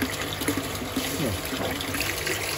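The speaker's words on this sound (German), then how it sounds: "Noch treibt die Pumpe ja das eiskalte Wasser aus dem Brunnen hier durch." Ice-cold well water pushed by a pump gushes and splashes steadily into a wood-fired hot tub, a continuous close rushing wash of water with no talk.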